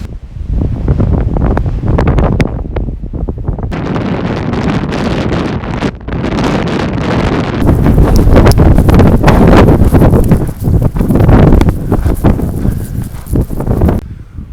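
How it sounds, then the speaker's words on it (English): Strong wind roars loudly and continuously across the microphone while cycling near wind turbines on the way to Tehachapi, gusting harder in the second half with no voices. "That was insane, the amount of wind in some of the spots."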